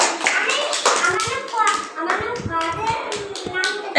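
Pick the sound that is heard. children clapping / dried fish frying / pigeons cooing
children clapping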